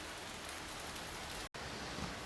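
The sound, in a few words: rain falling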